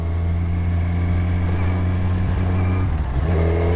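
A Kawasaki Z1000R motorcycle pulling hard in sixth gear gives a loud, steady engine roar that climbs evenly, then dips in pitch near the end.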